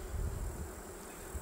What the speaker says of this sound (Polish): pszczołki, tak jak ta na przykład, unosi odwłok do góry, macha skrzydełkami. To właśnie jest ten szum zwany brakiem matki